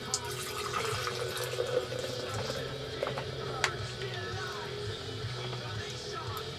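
Modelo beer pours from a can into a glass and foams up, a soft continuous gurgle and fizzing hiss heard close by, with faint voices in the background.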